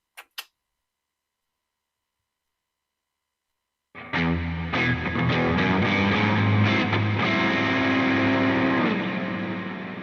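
An electric guitar through a Headrush pedalboard on a crunch scene with distortion and heavy reverb, entering after two small clicks and near-silence, then loud, dense sustained chords washing out over several seconds.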